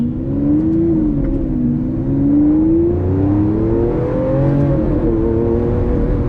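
A Lamborghini Aventador LP700-4's V12 accelerates steadily in Corsa mode at close range, its pitch climbing and dipping through gear changes, loud and continuous with no talking.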